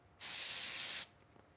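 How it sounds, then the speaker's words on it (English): A single burst of accelerator spray hisses onto a wooden knife handle for just under a second, close and fairly loud against a quiet room, then cuts off cleanly. "When I spray it, that way you can really see the grain pop."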